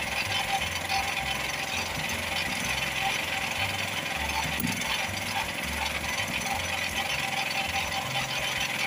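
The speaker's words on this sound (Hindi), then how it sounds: "तो यहाँ पर ये जनरेटर जो है ये बिल्कुल ठीक चल रहा है।" A gas-powered generator, fitted with a gas conversion kit and being tuned, runs steadily nearby with a continuous, even engine drone and no breaks.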